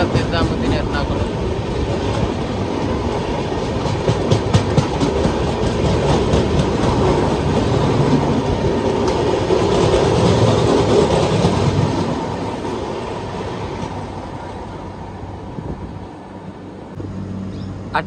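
A Lakshadweep Express train overtaking on the adjacent track, heard from inside a summer special express: loud, steady rail roar with rapid clickety-clack of wheels that swells and then eases off toward the end, with voices faintly underneath.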